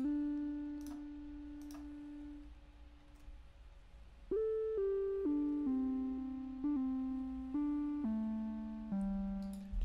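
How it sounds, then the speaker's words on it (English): A bright CS-80 synth lead plays a melody of sustained notes, starting with a held tone, pausing briefly, then stepping through several distinct pitches at a moderate pace. "The next sound we had here is this lead sound in CS80."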